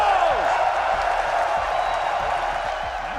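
An esports crowd at a Counter-Strike major in Austin cheers and applauds for the Mongols, a loud continuous roar of voices with whoops and clapping across the whole moment.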